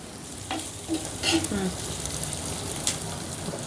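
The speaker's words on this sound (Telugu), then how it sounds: "మనం వేసిన పచ్చిమిర్చి కూడా ఫ్రై అయిందండి" Green chillies sizzle and fry steadily in hot oil over a medium flame for an aloo pepper fry, a close, continuous crackle with occasional stirring clinks and a few brief background sounds.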